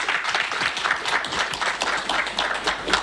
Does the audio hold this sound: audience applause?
yes